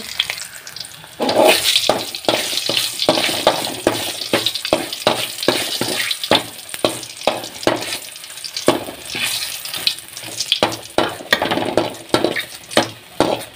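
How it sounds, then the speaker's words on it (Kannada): Mustard seeds crackle and garlic fries in hot oil in a home kitchen pan, a steady loud sizzle broken by dense sharp pops and spatters, with no talking. "ದಾಸಮಿ ಪಾಡ್ದ ದಾಸಮಿ ಚಟಪಟ ಅನ್ನಗ ಬೆಳ್ಳುಳ್ಳಿ ಪಾಡ್ದ"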